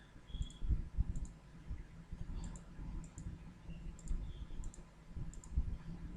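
Mouse clicks while working in 3D Max modeling software, several light, crisp clicks spaced irregularly over a low room hum, close and without talk.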